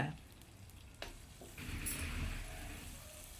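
Green chillies fry in a pan with fresh curry leaves, a steady oil sizzle that grows louder partway through, with light stirring clinks near the start.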